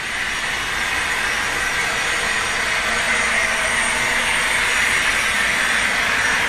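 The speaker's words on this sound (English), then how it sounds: "I'll crank it up to" An N scale GTEL 4500 turbine model locomotive runs at speed step 100, giving a steady, loud jet-like turbine roar that holds even from start to finish with no talking.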